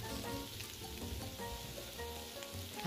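Shrimp spaghetti with tiger prawns, seasoned with black pepper and salt, is stir-fried in a pan, producing a steady, soft sizzle with faint scraping as it is tossed.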